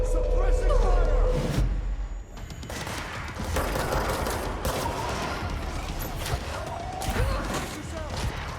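Dense suppressing gunfire in the action video game Control, bursts of rapid shots and crashing impacts layered over game music and effects, with shouted voices in the mix.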